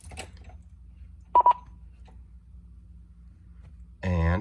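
A Retevis RA87 mobile radio, installed in a 1988 Toyota 4Runner, powering up: two short electronic beeps close together in an otherwise quiet cab, followed moments later by a voice starting to speak.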